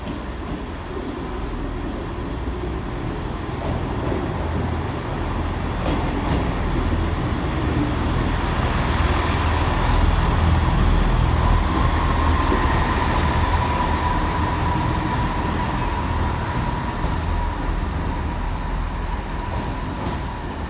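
A two-coach passenger train runs along with a steady, fairly loud rumble and hiss of wheels on track, a couple of faint clicks standing out, with no one talking.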